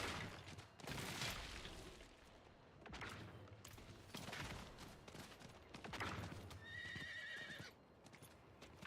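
Horse mount in World of Warcraft neighing and clip-clopping, with hoof thuds and a whinny rising over busy game sounds and effects, fairly loud and close.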